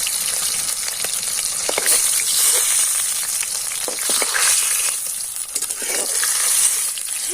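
Fish fries in hot oil in a wok, a dense, steady crackling sizzle that runs the whole time, broken by a few sharper pops and scraping stirs, close and fairly loud.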